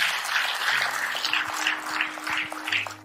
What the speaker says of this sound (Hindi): एक जोरदार तालियां होनी चाहिए